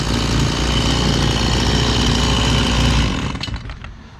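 A chainsaw cuts notches into wooden roof purlins during house construction, roaring loud and steady at close range for about three seconds before the engine drops back and the cutting stops.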